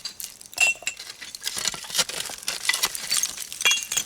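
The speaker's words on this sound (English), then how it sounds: "There's a broken glass." Broken glass bottle shards clink and scrape against each other while digging at an old bottle dump, a run of sharp irregular chinks and rattles, close and fairly loud.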